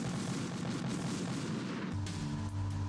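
Booming gunshots in a video game, a dense rumbling volley for about two seconds that gives way to a sustained tonal hum, loud and close with no talk.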